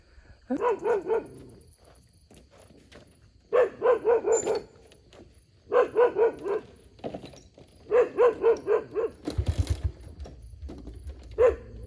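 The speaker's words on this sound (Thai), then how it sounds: "หมายังเห่าไม่หยุดเลยนะพี่ๆ" A dog barks repeatedly in bursts of rapid yaps with short gaps between them, close and loud, with no talking over it.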